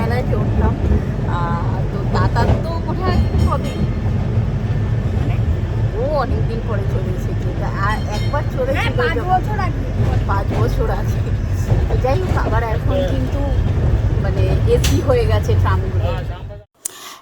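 Steady rumble and rattle of a moving Kolkata tram near Shyambazar fills the whole stretch, with people talking over the noise, until it cuts off abruptly near the end.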